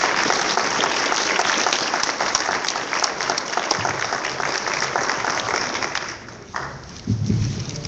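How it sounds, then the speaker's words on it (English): An audience at a grassroots political gathering applauds their director, a dense wash of clapping that holds steady and thins out toward the end. "y'all give a hand of applause to our director, JoAnn."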